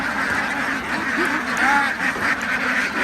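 Ducks on a duck farm quacking in a noisy group nearby, calls overlapping continuously against a busy background.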